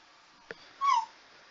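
A pet dog lets out a single drawn-out whine close by, preceded by a faint soft knock, in an otherwise quiet room.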